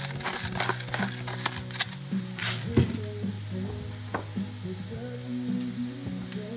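Sausage seasoned with fennel, salt and pepper sizzles loudly in a pan, with a continuous crackling fry, bursts of spatula scraping and crumbling as the meat is broken up, and a low hum beneath it, with no talking.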